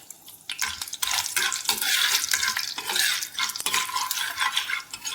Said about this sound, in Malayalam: നല്ലപോലെ ഒന്ന് ഇളക്കി ഒരു ബ്രൗൺ നിറമാകുന്നത് വരെ മുതിര അതിൽ കിടക്കണം.